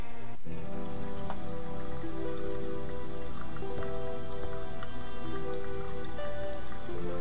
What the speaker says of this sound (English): I've managed to turn the tap on, at least